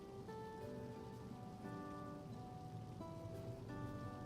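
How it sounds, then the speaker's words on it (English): Steady rain in the online game Final Fantasy XIV, a dense continuous patter at low volume with soft tonal game music underneath. "It is Rainy!"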